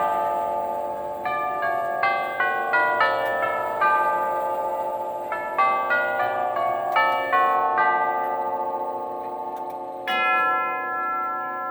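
A Herschede nine-tube grandfather clock, nearly a century old, rings out a melodic chime sequence of layered tubular bell tones, loud and close, with notes struck in rhythmic phrases that ring on and overlap.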